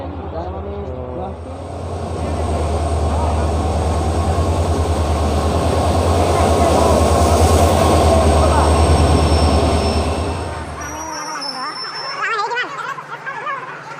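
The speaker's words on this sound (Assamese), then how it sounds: "এইখন ট্ৰেইন আহি আছে" A passenger train pulls into a station platform, its loud rumble and clattering wheels building and holding close before fading, while people talk nearby through much of it.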